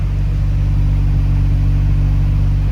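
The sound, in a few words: Nissan R32 GTR engine running with stock turbos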